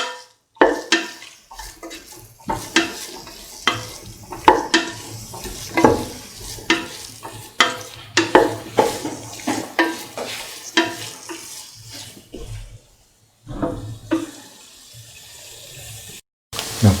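A spoon stirs lime juice into a carrot rice mixture in a pan, giving irregular scraping and clattering strokes with short pauses between them and a faint sizzle underneath.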